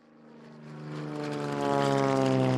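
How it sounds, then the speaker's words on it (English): Propeller airplane drone in a children's story sound effect, a steady buzzing engine that grows louder over a couple of seconds as it approaches, with no voices. "Finally, the plane lands in Buenos Aires, Argentina."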